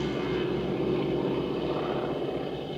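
Breitling display aircraft flying past in a two-abreast flyby at the Duxford Flying Legends airshow, a steady loud engine drone that holds without letup.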